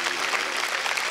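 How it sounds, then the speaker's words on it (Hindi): A large audience at a yoga gathering clapping vigorously, a continuous even roar of many hands. "एक बार अपने लिए भी जोरदार तालियां बजा लें"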